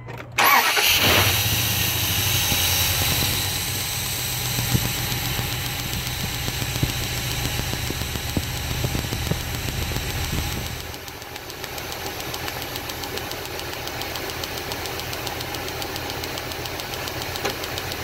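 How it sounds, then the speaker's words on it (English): A car engine cranks briefly and catches, then runs loud and steady with a slightly rough, ticking idle during an ignition coil check, easing to a lower, even idle for the rest of the stretch. "you'll be able to see the coil as I start the vehicle"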